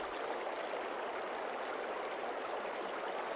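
A flowing river stream gives a steady, even rush of moving water, soft and continuous with no other sounds.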